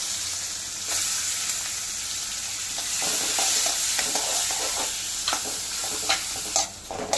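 Butter melts and sizzles in a pan for paneer butter masala, a steady close crackling fry with a few clinks and scrapes of stirring near the end, no talking.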